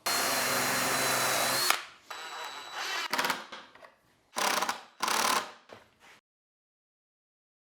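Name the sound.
power drill driving screws into a wooden jig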